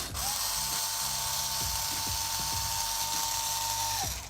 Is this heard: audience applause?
no